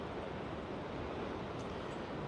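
Ocean surf rolls as a steady broadband wash of breaking waves, close and continuous, mixed with some wind, with no voices.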